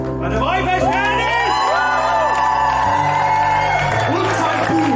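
A crowd cheers, whoops and shouts loudly at a May festival, with applause mixed under voices and singing tones, dense and close throughout.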